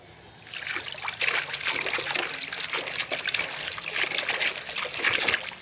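Clothes being dunked into a bucket of water, with continuous sloshing, trickling and splashing close by for several seconds.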